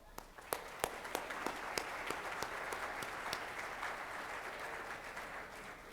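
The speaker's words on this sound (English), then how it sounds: "let's give ourselves the biggest round of applause." Warm applause from a sizable crowd at a State of the City address, a few distinct claps standing out at first before blending into a dense, steady wash of clapping.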